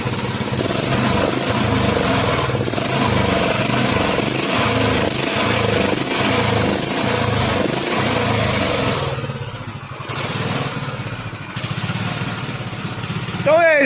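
A stationary engine mounted on a bicycle runs without an air filter, giving a steady, loud, buzzing motorcycle-like drone that holds throughout with slight dips in pitch, with no voice over it.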